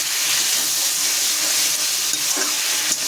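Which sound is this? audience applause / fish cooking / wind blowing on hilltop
fish cooking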